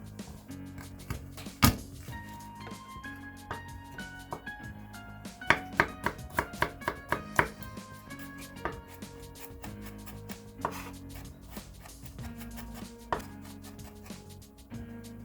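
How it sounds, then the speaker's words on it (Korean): A knife finely chops garlic on a cutting board, quick bursts of sharp close taps repeating in clusters over soft background music. "마늘은 잘게 다져 주셔야 하고요"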